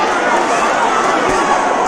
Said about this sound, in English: These middleweights are giving the crowd something to cheer about.